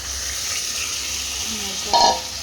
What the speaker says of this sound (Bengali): মাঝে নিচে বসে যাবে, তো তার জন্য একটু ভালো করে জল দিয়ে দিলাম।